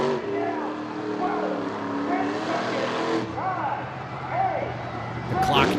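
Monster truck engine at a stadium event at Charlotte Motor Speedway, running hot as it smokes, with rough popping and crackling from the exhaust over a steady roar, heard from a distance under a commentator's voice.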